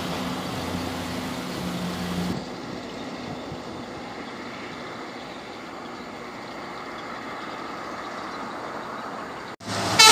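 A PMM intercity bus running fast along a straight road, a steady broad engine and road roar that holds loud and even for several seconds before a sharp rise at the end.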